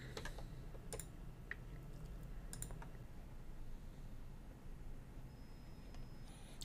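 Keys pressed on a PS2 computer keyboard wired to an Arduino: a handful of sharp, separate clicks spaced irregularly over a quiet background hum, close and fairly soft.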